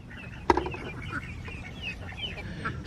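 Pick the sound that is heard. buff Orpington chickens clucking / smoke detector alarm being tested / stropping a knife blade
buff Orpington chickens clucking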